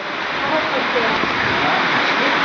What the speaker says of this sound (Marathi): आता इकडे पाऊस पण येलो